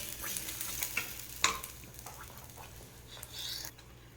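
Scraping and stirring of mushroom gravy in a pan with a soft sizzle underneath, a few sharper clinks of a utensil against metal, close by with no talking.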